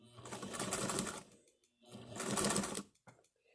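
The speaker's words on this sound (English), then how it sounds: "So you can see a vintage Singer machine, whether you have a motor on it, a hand crank, or a treadle" A vintage Singer sewing machine stitching through thick layers under the presser foot, in two steady whirring bursts of rapid needle strokes separated by a brief pause, ending with a couple of faint clicks.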